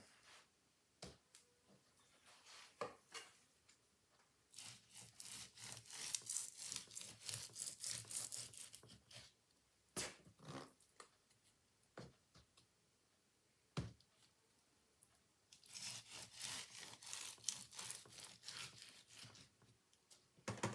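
Knife cutting the wax cappings off a honeycomb frame before extraction, two bursts of quiet rhythmic scraping strokes a few seconds long, separated by pauses and scattered clicks and knocks.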